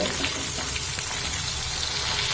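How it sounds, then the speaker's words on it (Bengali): Flat beans frying in a pan with salt and turmeric, a steady close, dense sizzle that holds evenly throughout with no talk over it. "একইভাবে আবার অল্প একটু লবণ আর হলুদ দিয়ে ভেজে নেব"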